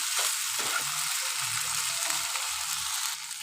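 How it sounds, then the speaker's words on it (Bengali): Spices and tomato frying in a pan with a splash of water added, giving a steady close sizzle with soft scraping and clinks of stirring underneath, no voices. "মশলাটা ভালো করে কষানোর জন্য একটু জল ঢেলে দেবো এভাবে ভালো করে নেড়ে করে নেবে"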